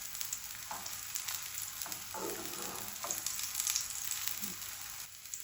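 Radish and spinach paratha frying on low heat in a pan, with a steady soft sizzle and a few louder crackling bursts of oil running throughout.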